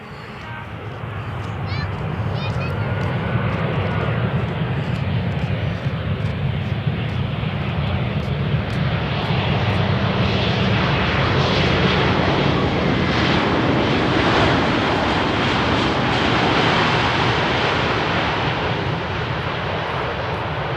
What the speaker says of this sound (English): EasyJet Airbus softly touching down.